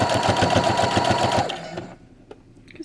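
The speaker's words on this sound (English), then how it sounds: "So I'm just going to take this back to the sewing machine." A sewing machine stitches down a one-inch fabric sashing strip, running in a rapid, steady mechanical rhythm for about a second and a half before stopping, followed by quiet handling noises.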